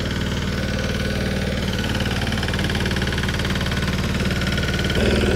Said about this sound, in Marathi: आणि या सरीवर आता हा पॉवर ट्रॅक्टर 15 HP चा 1502 DI मॉडेल